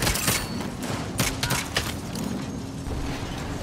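A turret firing in Saints Row, a loud, continuous hail of rapid gunfire with dense overlapping shots and impacts, constant throughout.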